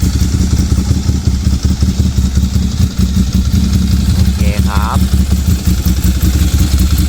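A 2013 Ducati Monster 795 motorcycle engine idles loudly and steadily up close, a rapid even chug throughout, while someone speaks briefly over it.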